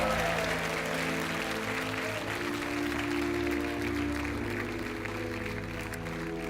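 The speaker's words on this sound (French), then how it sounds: "On vous laisse repartir sous les applaudissements." Studio audience applause on a French TV money game show, a steady dense clapping wash lasting throughout, with music or tonal sound running underneath.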